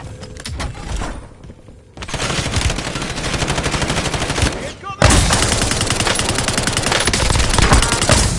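Rapid automatic gunfire in the online shooter Call of Duty: Warzone, loud and dense bursts of rattling shots that continue almost without pause and swell heavier midway, mixed with game sound and faint voice.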